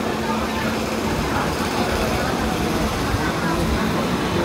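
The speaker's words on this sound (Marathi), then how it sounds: "आणि आपली लोकल इथे लागलेली आहे" A Pune local train sits at a station platform, giving a steady, loud rumble and hiss of machinery and ambient station noise with little change.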